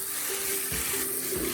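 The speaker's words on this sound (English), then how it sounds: "You hear that sizzle? That's what we want to hear." Chicken pieces sizzle and fry steadily in a hot pan, a continuous close crackle with no talking.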